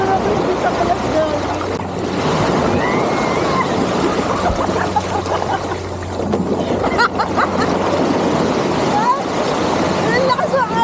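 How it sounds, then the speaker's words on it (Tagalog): Strong ocean waves off a surfing beach in La Union (Elyu), a continuous, loud wash of surf with gusts of wind buffeting the microphone and occasional faint voices. "Ang lakas ang alon dito."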